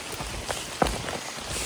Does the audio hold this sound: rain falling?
yes